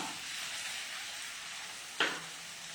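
Paneer sizzles in a pan with a steady frying hiss as cashew paste is poured in, followed by a short sharp burst of crackling near the end.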